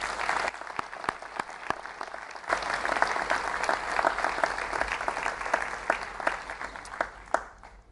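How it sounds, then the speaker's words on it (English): An audience at the Greater Springfield Festival of Learning 2019 claps for the event's sponsors. The applause is moderate and sustained, with individual sharp claps standing out against the steady wash. "could I ask you to give a round of applause for all of our sponsors"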